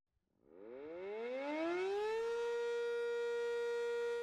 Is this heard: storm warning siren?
yes